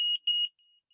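A magnetic sensor controller beeps when held close to a device, giving three short high-pitched electronic beeps in quick succession followed by a faint, lingering tone.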